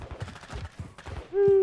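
Video-game gunfire in Call of Duty MW2 DMZ comes as a rapid burst of roughly a dozen close shots at a steady rhythm, ending in a sustained tone.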